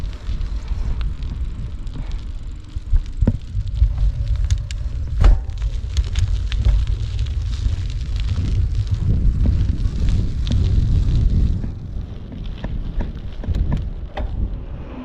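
Steady loud wind buffeting a handheld GoPro mic during a cold-weather mountain bike ride, a continuous roar with occasional knocks and rattles and no talking.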